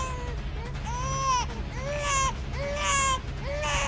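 An infant cries in a home scene, with repeated rising-and-falling wails in close, steady bursts and short catches of breath between them, and no other sound competing.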